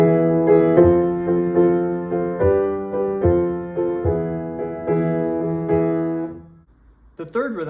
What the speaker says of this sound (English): The second rhythm is a half note followed by a quarter note on beat 3.